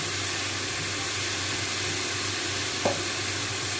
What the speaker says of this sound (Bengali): নেড়ে নেড়ে পেঁয়াজের সাথে ভাজতে হবে